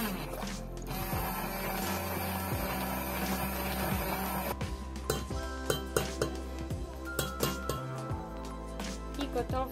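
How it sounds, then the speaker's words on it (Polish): An electric blender purees cooked plums for homemade plum spread, its motor humming on and off with sharp clinks and taps of the blade and container throughout. "I blendujemy."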